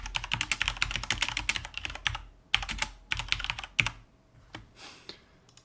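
Rapid bursts of key clicks on a computer keyboard as text is typed, close and crisp with short pauses between runs and no talking.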